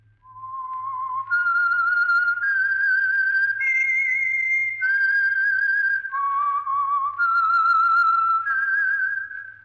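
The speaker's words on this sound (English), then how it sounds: "That whistle is your signal for the Signal Oil Program, The Whistler." A clear, solo whistled theme tune for The Whistler radio show, a slow melodic line of sustained pitched notes stepping up and down, close and clean with no talk.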